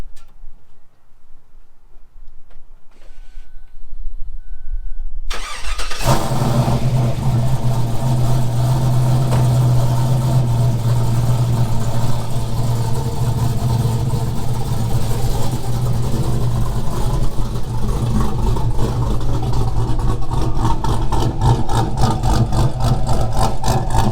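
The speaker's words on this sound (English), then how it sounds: "let you hear that stage 3 cam, those long tubes, and that Magna Flow exhaust" A big V8 engine in a Chevrolet Suburban 2500 truck with a stage 3 cam, long-tube headers and a MagnaFlow exhaust cranks over after a few seconds of near silence, catches with a loud burst, then settles into a deep, rumbling, choppy idle.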